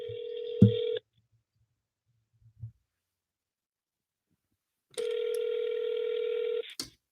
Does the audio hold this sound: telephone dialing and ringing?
yes